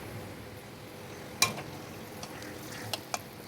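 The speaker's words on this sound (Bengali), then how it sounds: "তেলটা গরম হয়ে গেছে, দুটো শুকনো লঙ্কা চিড়ে দিয়ে দিলাম।" Dried red chillies frying in hot oil for noil pickle, a soft steady sizzle throughout, broken by a few faint sharp ticks and pops.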